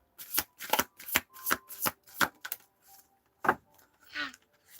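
Tarot cards are shuffled by hand in a quick series of crisp riffling bursts, about eight close, distinct flutters with short gaps, followed by a softer slide near the end.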